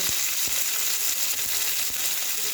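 Small shrimp frying in a pan give off a steady, even hiss of sizzling oil with a few soft taps of stirring, close and alone with no voices.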